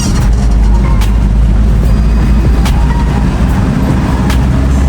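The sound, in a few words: Toyota HiAce Siyaya minibus driving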